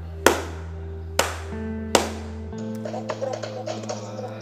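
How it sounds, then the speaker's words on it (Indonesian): Three sharp hand claps at an even, unhurried pace ring out close and loud, with quiet room hum and faint tapping afterward. "3 kali tepuk tangan buat yang sudah klik."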